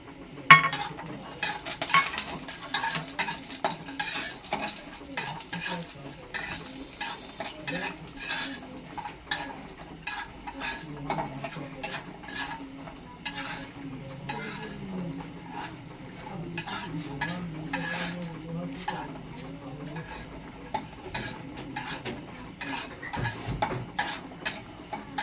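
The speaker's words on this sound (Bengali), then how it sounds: "বড়িগুলো ভাজা হয়ে গেছে, আমি তুলে নিচ্ছি।" Bori lentil dumplings fry in hot oil for shukto while a metal spoon repeatedly scrapes and clinks against the pan over a faint, steady sizzle.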